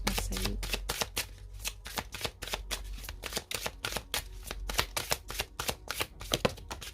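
A deck of oracle cards is shuffled steadily and close up, with rapid rhythmic riffling and tapping that continues throughout, alone and without voices.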